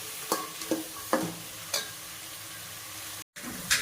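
Onions and vegetables are sautéed in oil for vegetable biryani, with a spatula striking and scraping the pan about six times at irregular intervals over a soft, constant sizzle. The sound is close but quiet and cuts out briefly near the end.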